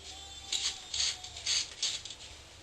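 Several short hissing bursts of WD-40 sprayed onto hair clippers, close and fairly quiet, repeating in an uneven rhythm over faint background noise.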